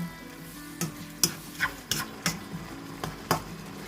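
Bamboo shoots and chicken giblets stirred in an electric pan, a faint background sizzle broken by several sharp scrapes and clinks of a utensil against the pan at uneven intervals.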